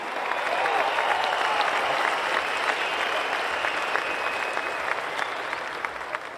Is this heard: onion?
no